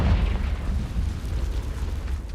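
A deep, rumbling blast from the Confringo fire spell in the video game Hogwarts Legacy, a heavy low boom that fills the short moment without speech.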